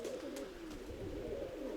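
Pigeons at a Ukrainian loft coo in a low, rolling, steady murmur, close by and fairly faint, with no voices over it.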